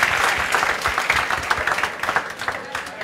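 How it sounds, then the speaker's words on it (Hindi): An audience at a celebration claps loudly in a dense, steady burst of many hands, with a few sharper claps standing out through the whole stretch. "तो इन सब के लिए ज़ोरदार तालियां बजाओ।"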